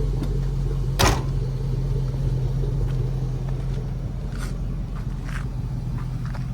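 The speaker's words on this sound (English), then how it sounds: "Still got a rumble." Idling engine of a 1965 Ford F100 pickup with an LS swap, a steady low, smooth rumble heard up close, with a brief click near the start and no talking.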